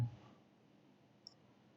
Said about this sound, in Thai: คลิกขวาที่เมาส์ทุกครั้งนะครับ